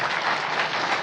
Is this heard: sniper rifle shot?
no